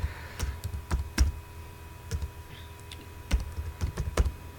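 Typing on a computer keyboard: sparse, close key clicks in short irregular bursts with quiet gaps between them and no talking.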